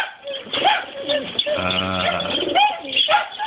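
Racing pigeons coo nearby in soft, throaty, rolling calls, several overlapping in a short burst with a few brief chirps.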